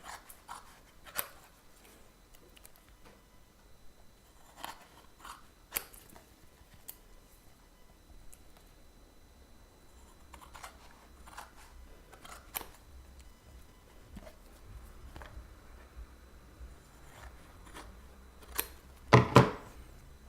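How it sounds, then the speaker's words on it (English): Scissors cut through glued card to make a game player board, giving sparse, crisp snips spread across a quiet room, with a quick cluster of louder cuts near the end. "If you clean it, then you don't get as much glue on your scissors. And then you can just cut straight away."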